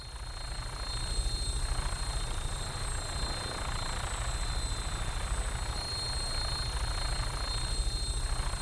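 Aircraft on final approach to an airport in Fallout 4, a steady droning engine rumble with a faint high whine, continuous and even throughout, with no voices over it.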